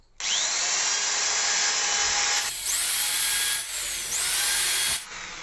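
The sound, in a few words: drilling holes in HDHMR board with a 1.5 sut bit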